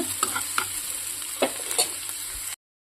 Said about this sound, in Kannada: ಇದು ಚೆನ್ನಾಗಿ ಫ್ರೈ ಆಗಲಿ ಕಂದು ಬಣ್ಣಕ್ಕೆ ತಿರುಗಲಿ ಈರುಳ್ಳಿ ಏನಿದೆ ಅದು ಸ್ವಲ್ಪ ಬ್ರೌನ್ ಕಲರ್ ಆಗಲಿ